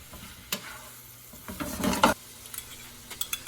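Ground meat browning in a pan, sizzling steadily while a spoon stirs and scrapes through it in short close strokes, with a busier burst of scraping midway.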